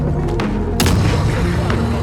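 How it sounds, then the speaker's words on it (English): Heavy gunfire from a newly acquired weapon in the video game The Forever Winter, with a loud burst that opens sharply partway through and rumbles on over dense battle noise. "let's see this gun in action."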